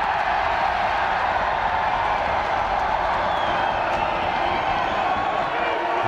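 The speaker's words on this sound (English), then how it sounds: "the Archers crowd really getting behind the boys" Spectators at a Cardiff Met versus Cardiff university rugby match cheer and roar, a steady, dense crowd noise that holds at an even level from start to finish, heard from a distance.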